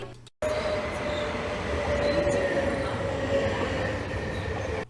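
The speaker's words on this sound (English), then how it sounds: "Marmara is a train that goes from one end of the Istanbul to the other." Marmaray commuter train in Istanbul running at speed after a brief silence, a loud steady rolling rumble with a thin high wheel squeal drawn out above it.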